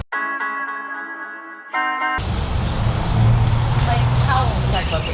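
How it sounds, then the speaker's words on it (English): A BMX frame is spray-painted: a sustained hiss of aerosol spray starts about two seconds in and runs loud and steady with short breaks, preceded by a tonal electronic drone. "All right, I guess I'll just spray this way."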